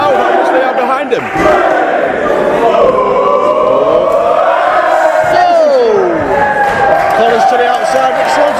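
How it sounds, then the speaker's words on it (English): A loud wrestling crowd at a TCW Spring Storm show cheers and chants for Rich Swann, with a sustained roar of many voices rising and swelling throughout. "And listen to this crowd, how much they are behind him."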